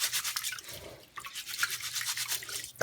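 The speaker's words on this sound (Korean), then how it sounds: "골고루 이렇게 비벼주세요. 양손으로 쌀 알갱이 잡고서 물과 함께" Rice grains rubbed together by hand in standing water during washing, a soft, continuous wet scrubbing and swishing with faint drips, quiet and close, with no voices.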